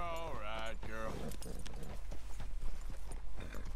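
Hooves of a black Arabian horse in the Red Dead Redemption 2 game, a run of clip-clop steps under speech and music, with a voice talking over the first half.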